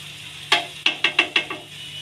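A spoon scrapes and taps against a frying pan while spices are stirred, five sharp close strokes over a faint background hum.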